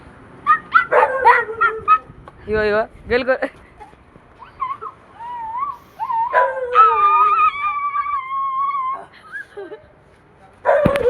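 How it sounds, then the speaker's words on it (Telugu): A dog being teased outdoors barks, yips, whimpers and lets out long wavering howls, loud and close, with people talking over and between its cries. "ఇగో ఇగో ఇగో కుక్కని గెలుకుతున్నాను"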